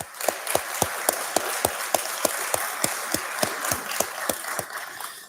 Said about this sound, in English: let's have a round of applause for both Emily and the mayor